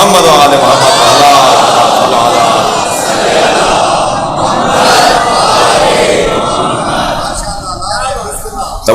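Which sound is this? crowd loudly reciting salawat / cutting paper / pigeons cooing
crowd loudly reciting salawat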